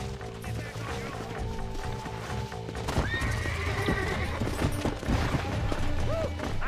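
In the video game Red Dead Redemption, a horse neighs loudly partway through, with hooves clopping and game ambience around it.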